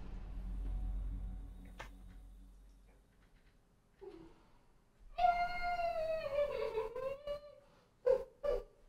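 A distressed cat lets out a long, drawn-out unhappy meow, followed by two shorter cries, close to the microphone in a quiet room after a stretch of low rumbling.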